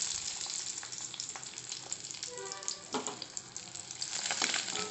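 Eggs frying in a pan give off a steady bright sizzle with small crackles and pops, close and fairly loud, with no voices over it.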